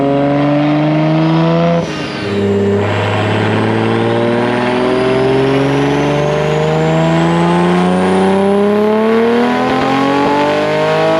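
A tuned Nissan GTR R34 with an RB engine revs hard and close, its rising harmonic howl sustained and very loud for about eleven seconds with a brief dip near the start and a high whine climbing above.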